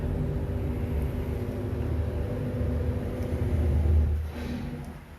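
A Dodge Challenger 6.4 liter Scat Pack Hemi idles with a steady, deep rumble that swells slightly before easing off near the end, up close and heard on its own.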